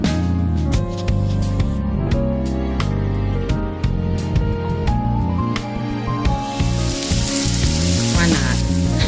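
Shrimp hit a hot stir-fry pan that already holds chicken, setting off a loud, bright sizzle near the end that rises over background music already playing.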